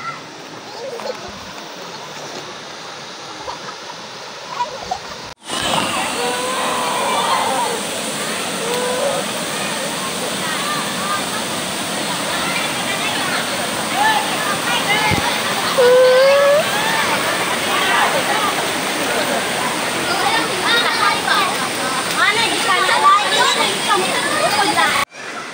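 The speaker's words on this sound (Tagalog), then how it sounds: "Lakas ng tubig." A strong waterfall rushes with a dense, steady roar after a quieter opening, loud and close throughout while someone walks nearby.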